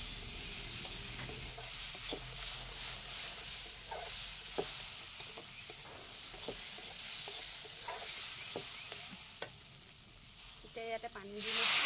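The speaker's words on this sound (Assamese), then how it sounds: "এতিয়া আৰু অলপ টাইম ধুনীয়াকৈ লৰাই লৰাই ভাজি ল'ম। মচুৰ দালিৰ কেঁচা ভাৱটো নোযোৱালৈকে অকণমান টাইম ভাজি ল'ম মই এনেকৈ।" Masoor dal stir-fried in a pan, a steady close sizzle with scattered scrapes and taps of a spoon against the pan, louder crackle and a burst of hiss near the end.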